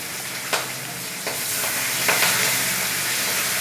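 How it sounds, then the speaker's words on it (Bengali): Fish frying in a pan of hot, spattering oil: a loud, dense sizzle that builds and holds throughout, with a few sharp crackling pops near the start, close up and with no voices. "মাছগুলো ভেজে নিচ্ছি, খুব ছিটকাচ্ছিল তেল"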